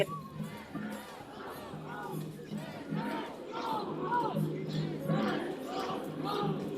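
Protest crowd in Portland shouting near a fence during a riot, repeated rhythmic chanted cries rising and falling over several seconds, somewhat distant.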